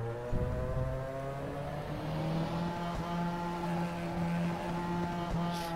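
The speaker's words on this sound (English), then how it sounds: "we're driving then this Formula 3 car at Interlagos" A Formula 3 car engine in the racing game Game Stock Car Extreme, at Interlagos, drones at high revs, holding a steady buzzing pitch with slight rises and dips, loud and close throughout.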